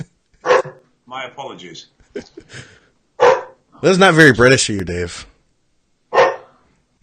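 A dog barks in several short bursts during an indoor recording, the barks loud and close and mixed with people talking between them.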